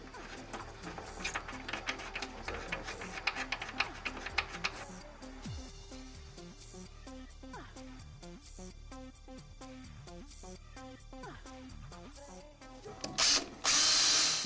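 A power drill whirs in short bursts, drilling a pilot hole during a K20A2 engine swap into an EK Honda Civic, over a cluttered mechanical background, with some ratcheting clicks and a louder burst near the end.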